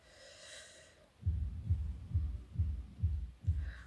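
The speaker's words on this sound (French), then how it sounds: "C'était cadeau, le bruit du mètre ruban." A tape measure being pulled out and handled while measuring a garment, giving a run of soft, rhythmic low thumps and rasps, fairly close, with no talking.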